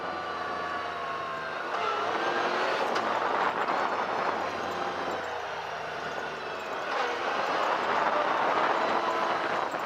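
A Yamaha YXZ1000R SS side-by-side drives with its engine droning steadily, harmonic tones sliding as it drops into a lower gear, then rising again, loud and close with road and wind rumble underneath.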